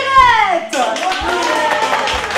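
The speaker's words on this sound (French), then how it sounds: "On applaudit Colette et on vous souhaite bonne chance!" Audience applause for a contestant at a senior residence game show, a short burst of hand clapping that follows a spoken voice.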